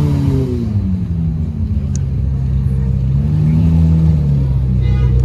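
Supercars such as a Ferrari SV and Challenge Stradale move past a crowd at a car event, their engines giving a steady loud rumble with swelling revs throughout, while voices chatter in the background.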